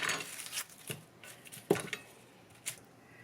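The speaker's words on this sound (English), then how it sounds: "You're going to cut off the ends" A knife trims the ends off a red onion, giving a few sharp, close taps on the cutting board spaced across a quiet kitchen background.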